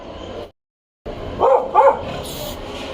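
A pet dog barks twice in quick succession, fairly close, after a brief silent gap, with steady low background noise.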